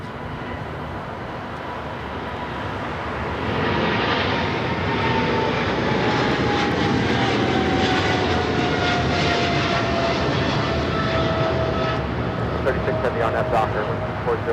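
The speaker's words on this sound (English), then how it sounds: "This is DHL, operated by Polar Air Cargo 992, taking off to Cincinnati." A DHL cargo jet operated by Polar Air Cargo takes off at Los Angeles airport, its engine roar swelling and holding loud and broad, with a voice talking over it.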